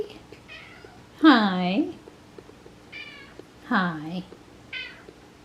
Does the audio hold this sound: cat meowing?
yes